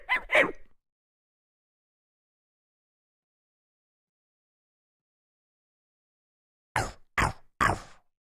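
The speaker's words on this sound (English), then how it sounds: "You scared my dog?" A small dog gives two quick yips, then after several seconds of silence lets out three more short barks in a row, close and moderately loud.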